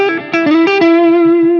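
A short electric guitar phrase on the neck pickup played through a Dr. Z Maz 18 amp, a few quick notes settling into one sustained, warm, slightly driven tone.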